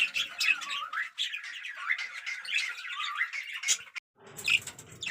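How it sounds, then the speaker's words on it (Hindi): Budgerigar parrots chatter and squawk close up in a rapid string of shrill chirps and warbles, with a brief pause before another burst of calls. "ये देखें मेरे पास कितने प्यारे स्टेडियम बजरी तोते हैं।"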